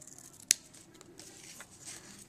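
A single sharp snip of scissors cutting ribbon for a bow, one crisp close cut standing alone against quiet room tone.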